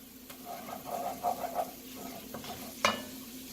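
Garlic hits melted butter with diced onion and celery in a pan, giving a soft sizzle broken by a few stirring scrapes and one sharper clatter, fairly quiet with no talk.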